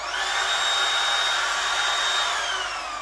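A Makita 18V cordless router runs steadily at full speed, giving a loud, high-pitched whine with a sustained tonal scream and airy hiss, constant from start to finish without talk.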